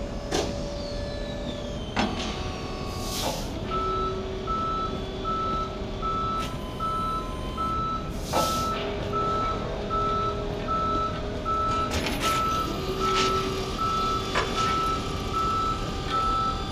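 Repeated reversing beeps from a tow truck in the Police Simulator: Patrol Officers video game, a steady beeping pattern over a truck engine idle with occasional mechanical clunks, no talking.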